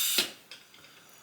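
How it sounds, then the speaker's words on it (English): A handheld pump inflating a party balloon gives a few short, airy pumping strokes close by, spaced out over about a second with a sharp final puff. "Okay, so I'm just gonna pump up balloons."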